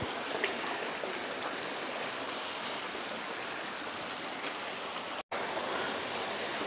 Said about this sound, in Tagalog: series of mini falls